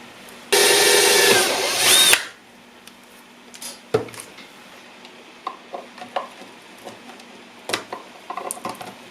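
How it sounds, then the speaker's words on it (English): Power drill boring a hole for strain relief eyelets while building an HF wire dipole antenna, one loud continuous whine lasting under two seconds, then quiet clicks and handling noises of the work. "we'll need to drill 2 holes somewhere about right here."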